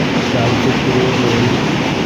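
A train leaving Halsa station rolls past with a loud, unbroken rumbling roar, close and steady, with a faint tonal wheel whine running through it.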